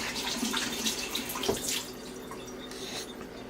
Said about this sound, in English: So I'm just gonna give this a wash in the sink.